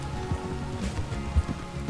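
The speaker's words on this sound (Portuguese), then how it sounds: "Essa chuva é passageira, senhora, já vai parar." Rain falling in the video game Red Dead Redemption 2, a soft, steady patter of drops on surfaces with a few slightly louder taps, fairly quiet and uninterrupted.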